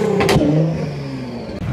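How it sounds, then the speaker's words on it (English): A De Tomaso Pantera sports car arrives at a car gathering with a loud, close engine rev that rises and holds in a rough mid-range growl, alone and brief. "a Di Tommaso Pantera has just turned up and is causing a sounding scene"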